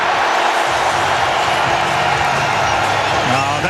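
A packed cricket stadium crowd roars and cheers for a six at an India versus England T20 match, a loud continuous din under steady commentary.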